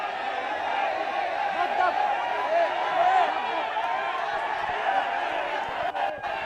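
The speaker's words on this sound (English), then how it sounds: "The crowd getting in on the act as well." A schools rugby league crowd at Havelock Park, watching Isipathana College against D.S. Senanayake College, keeps up a steady, loud roar and chatter throughout, with a commentator's voice over it.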